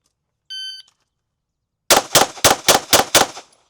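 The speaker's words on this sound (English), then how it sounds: "Let me show you what a couple of these things look like when I'm shooting live ammo." Handgun firing live ammunition: a short beep from a shot timer, then six sharp, loud shots in quick rhythmic succession, close by and with no talking.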